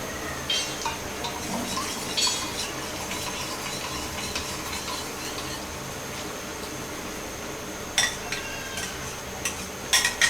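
A spoon stirs cornflour slurry into a Bangladeshi-style sweet and sour chicken sauce in a pan, with steady scraping and soft clinks of metal on cookware, building to sharper clinks near the end, with no voices.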